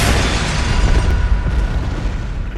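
In Bloodborne, a cannon fires with a loud, deep boom whose heavy low-end blast rumbles and slowly fades over a couple of seconds.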